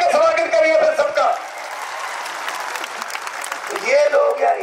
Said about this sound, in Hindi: तालियां बजा के स्वागत करिए फिर सबका।